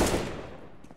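Gunfire in the video game CS:GO: a loud, short burst of rapid shots at the start that decays over about a second, with a fainter shot or two near the end.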